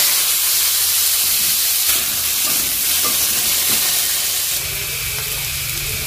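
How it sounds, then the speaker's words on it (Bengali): Potatoes frying in hot oil in a home kitchen give a steady, close sizzle and hiss that runs for the whole stretch with no talk. The sizzle grows slightly denser toward the end. "ফ্রাই করে নিব, ভেজে নিব।"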